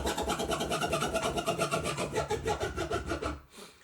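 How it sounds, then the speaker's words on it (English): A fast chirp scratch worked on a DDJ-1000 DJ controller, a rapid string of rhythmic scratchy rubbing bursts that runs loud and dense for a few seconds, then drops away abruptly near the end. "Scratch number 2 is the chirp"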